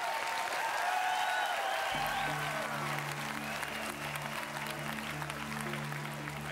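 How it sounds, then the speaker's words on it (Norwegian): Studio audience applauds a dance couple after their slowfox on a televised ballroom dance competition, a steady dense clapping throughout while music begins under it partway through. "Stor applaus til Tommy og Rake"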